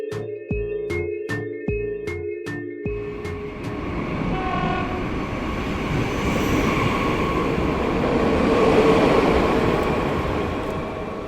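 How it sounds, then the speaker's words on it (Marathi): A passing train sounds a series of short, loud horn blasts, then rolls by with a steady rattling clatter of wheels on rails that swells and keeps going. "धडधडत आलेली रेल्वे धूळ उडवत निघून गेली"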